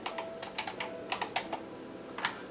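Light, quick keystrokes tap on a computer keyboard in short uneven bursts while router commands are entered, close and fairly quiet with no talking.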